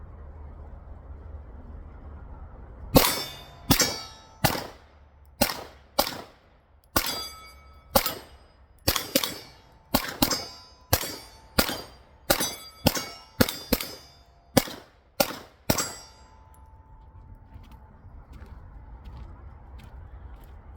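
Girsan 2311 Match X pistol fired at an outdoor range, about seventeen sharp, loud shots in an unhurried, slightly irregular cadence, each with a brief ringing decay, then quiet ambience.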